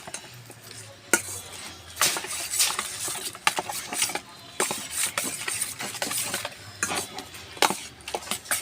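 Meat is mixed with sour yogurt by hand in a pot, giving wet squelching and stirring sounds with occasional sharp knocks against the vessel, close and irregular, with no talking.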